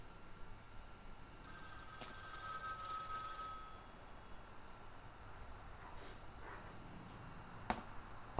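An old-style telephone bell rings in Vampire: The Masquerade – Bloodlines, a faint trilling burst in a quiet, dim room tone, followed by a few sharp clicks and knocks.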